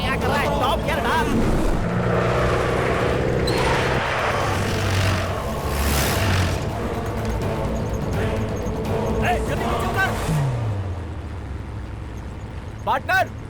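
A car driven fast in top gear roars steadily under loud, excited shouting voices, with the engine noise continuous and close throughout an action movie scene.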